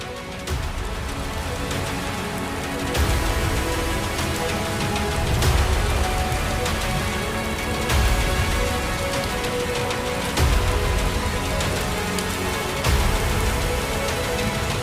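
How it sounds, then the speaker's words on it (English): Heavy rain pours steadily on the African savanna at the start of the rainy season, a dense loud hiss of drops with periodic surges in intensity and no voices. "Now it is no longer an announcement, it is the rainy season entering with authority."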